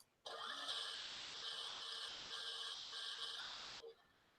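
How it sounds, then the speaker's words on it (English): A short electronic sound effect like a car stalling plays for about three and a half seconds, a buzzing, sputtering tone that starts abruptly and cuts off, with no talk. "Sound like a car stalling."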